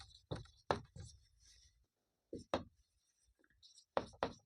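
Chalk or marker strokes scratch across a classroom board while a maths problem is worked out, several short bursts of writing separated by pauses, close and fairly quiet.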